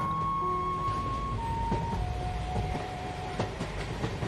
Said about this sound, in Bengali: ট্রেনটা ছেড়ে বেরিয়ে গেল।